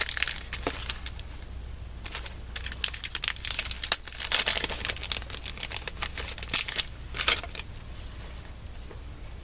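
Paper scraps for card making are handled and crinkled close by, giving a steady run of dry rustles, crackles and sharp crumpling bursts with no talk.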